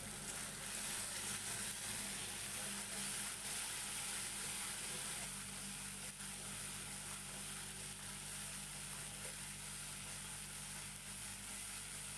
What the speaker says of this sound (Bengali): তো মশলাটা থেকে তেল ছাড়া পর্যন্ত মশলাটাকে আমি খুব ভালো করে কষিয়ে নেব।